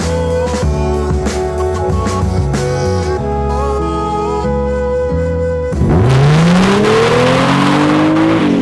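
A Mazda RX8 sports car in a racing video game revs its engine, with rising and falling engine tones. Near the end the car surges into a loud, climbing acceleration. No one speaks.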